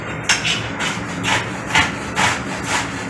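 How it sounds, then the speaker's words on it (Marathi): Fresh ginger root being grated by hand in a home kitchen, a close, rough scraping rasp repeating in steady strokes about every half second, alone with no talk. "आता आलं किसतोय आपण"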